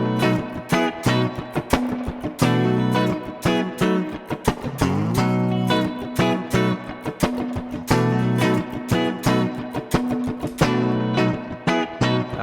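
Electric guitar rhythm pattern played through a Nano Looper 360 by Electromatic, a steady repeating blues rock groove of chugging chords with no talking.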